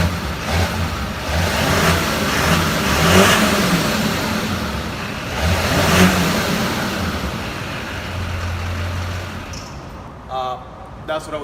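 A diesel truck with a 7-inch straight pipe exhaust running from the intercooler revs loudly and steadily up close, its deep engine roar rising and falling in surges, with people talking underneath.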